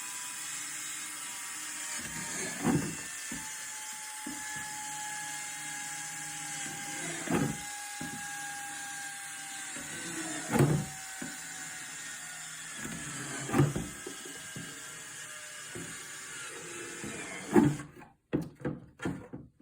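A cordless drill on a weak battery whirs in several short bursts with pauses between, drilling drainage holes in a plastic jug, each burst grinding briefly before stopping, ending with a cluster of quick bursts.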